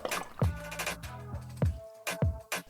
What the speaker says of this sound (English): Pour the chilies into a pan and add 235 millilitres of vinegar for every 500 grams of chilies.